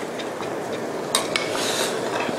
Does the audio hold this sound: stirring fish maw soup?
yes